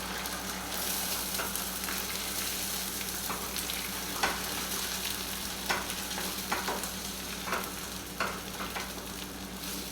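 Eggs for an omelette fry in a hot pan, a continuous close sizzle with occasional scraping and stirring clicks as they are moved around, with no talking.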